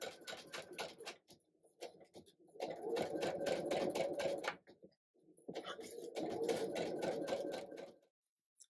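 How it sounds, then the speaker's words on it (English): Sewing machine stitching quilt blocks with a quarter-inch seam, sewn slowly in three bursts of rapid, even needle clatter separated by short pauses, close and clear with a faint voice in the gaps. "So you're going to sew a quarter inch all the way around this, and I'm just going to go nice and slow."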